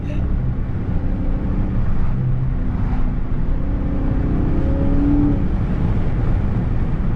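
A Dodge Charger Scat Pack 392 with a manual gearbox drives along with a deep, rumbling engine drone and steady road noise, broken by a few faint rising tones as it pulls.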